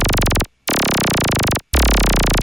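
Pitched synth sub drop layered beneath a sweep effect, playing as three loud, dense sustained bursts separated by brief silences, with deep low-end weight building in the final burst.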